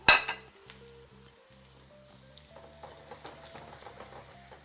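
A cheese frico sizzles softly in a pan as it browns on its second side, with a low steady frying hiss and light clinks. A faint tonal hum runs underneath throughout.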